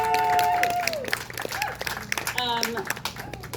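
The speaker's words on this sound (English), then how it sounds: "let's give them all a big round of applause." An outdoor crowd at a street fair pun show gives a round of applause mixed with some cheering, steady clapping under overlapping voices and a few whoops.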